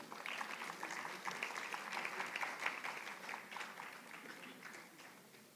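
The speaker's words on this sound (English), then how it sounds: "May we have a huge round of applause for ma'am." Audience applause at a university youth consultation event, sustained even clapping from a sizable crowd heard at a distance, fairly faint and steady, tapering slightly toward the end.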